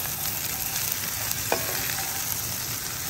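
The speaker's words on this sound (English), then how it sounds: "So now we're gonna give this a stir." Potatoes, sausage and onions sizzle in a cast iron skillet as a spoon scrapes and turns them, a close, continuous frying hiss with a single sharper clink partway through and no voices.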